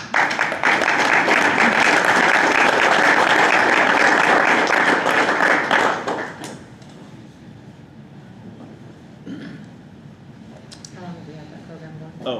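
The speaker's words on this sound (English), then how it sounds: "that applause was for you" An audience at a school board of education meeting claps loudly and steadily for about six seconds, then the clapping stops abruptly and a quieter room with a few voices follows.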